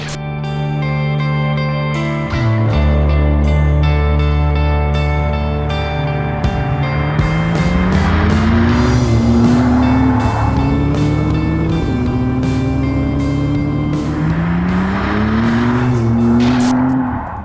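A McLaren Artura sports car drives past loudly, its engine note rising and falling through the revs alongside tyre roar, heard alone with no talk.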